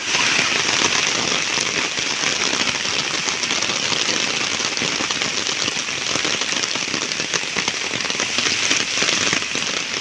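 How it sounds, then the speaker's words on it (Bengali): Heavy, torrential rain pouring down continuously and loudly, a dense, unbroken hiss with no pauses and no talk over it. "কিরকম ভয়ঙ্কর বৃষ্টি হচ্ছে, ভয়ঙ্কর বৃষ্টি"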